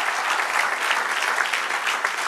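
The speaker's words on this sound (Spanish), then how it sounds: "Denle un aplauso al Señor." A church congregation claps together in a brief, dense burst of applause, steady and fairly loud with no talk over it.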